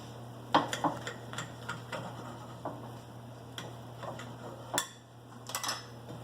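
A knife slicing fresh spinach on a board: a string of light, irregular taps and crisp cuts, fairly close, over a low steady hum.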